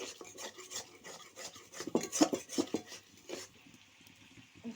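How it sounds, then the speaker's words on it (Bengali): Country chicken meat frying in a pan for a village-style curry is stirred with a utensil, giving rough rasping scrapes and clinks in uneven bursts over a faint sizzle, with no speech. "তো তোমাদেরকে দেখা যাচ্ছে আমার মাংস ভাজা হয়ে গেল।"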